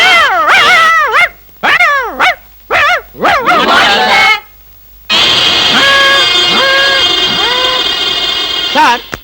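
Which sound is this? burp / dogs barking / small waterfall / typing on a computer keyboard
dogs barking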